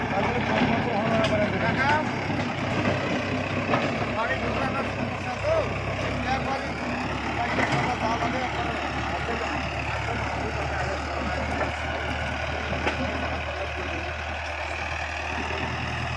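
A tractor engine runs steadily at close range while ploughing a field of soil cleared of taro, a continuous loud mechanical drone with some voices audible underneath.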